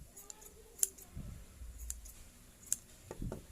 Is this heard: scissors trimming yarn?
yes